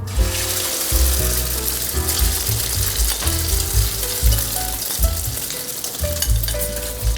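Egg frying in very hot, deep oil for a Thai-style omelette, a continuous bubbling sizzle with a low rumble underneath, steady and close.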